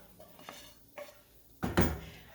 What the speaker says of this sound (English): I'm not going to scoop it out from the frying pan.